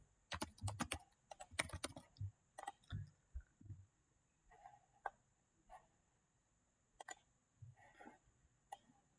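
Someone types on a computer keyboard, sending quick bursts of close, crisp key clicks that come in irregular clusters with pauses in between.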